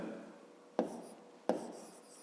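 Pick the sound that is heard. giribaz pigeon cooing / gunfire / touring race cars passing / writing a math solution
writing a math solution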